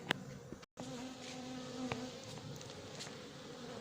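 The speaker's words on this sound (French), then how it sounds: "Il y a une ou deux abeilles qui m'attaquent devant là." Honeybees from a swarm being collected into a cardboard box with smoke buzz steadily and fairly close, a dense continuous hum with a few sharper passes of individual bees, no talking.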